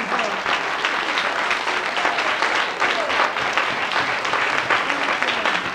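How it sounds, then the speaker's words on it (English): A church congregation breaks into loud, sustained applause, dense overlapping hand claps filling the room evenly throughout, with faint voices mixed in. "Put your hand together and give God a big applause."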